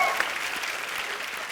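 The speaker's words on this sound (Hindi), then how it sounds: "जोरदार तालियां हैं।" Studio audience applause on a Hindi TV comedy talk show, a dense, steady burst of clapping with crowd noise throughout, loud and close.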